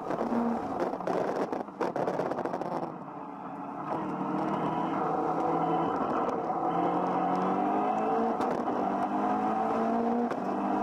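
A Caterham 420R engine screaming at high revs around the Monza circuit, bouncing off the rev limiter with a rising, droning note and stuttering cut-outs, loud and close under wind noise.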